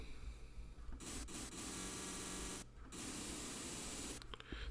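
Steady white noise from the noise oscillator of a Serum 2 software synthesizer, a loud broadband hiss that briefly drops out twice and returns.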